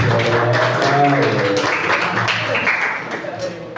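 An audience breaks into applause after a speaker talks briefly, scattered hand claps building into a short round of clapping under fading voices.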